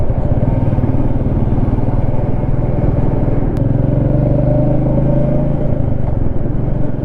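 A Royal Enfield Meteor 350 single-cylinder motorcycle engine thrums while riding, a loud, close, steady bubbly rumble with a low throb that shifts pitch slightly partway through, with no voices.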